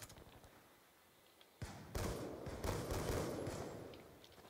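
Shotgun gunfire in Call of Duty Black Ops 2 gun game mode, a few sharp blasts and impacts following a quiet stretch, then a busy burst of game action, fairly faint overall.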